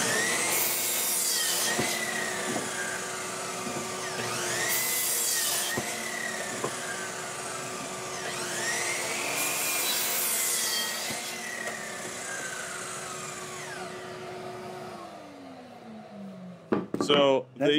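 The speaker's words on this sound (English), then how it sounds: "people can make this with just a jigsaw or something" A saw cuts through wood pieces for garden row covers in repeated strokes, rising and falling with a rasping whine, while people talk alongside; a clattering knock ends the sequence.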